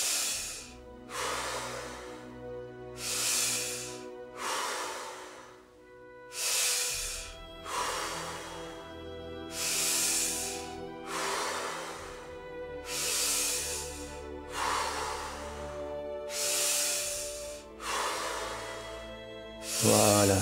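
Deep guided breathing in the Wim Hof style, with long airy inhales and exhales repeating at a steady rhythm about every two seconds, close and clear over soft background music, with no talking.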